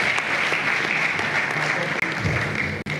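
Sustained applause from an audience at a Dar es Salaam human rights defenders' coalition anniversary event, a dense steady clatter of clapping hands throughout, with brief dropouts near the end.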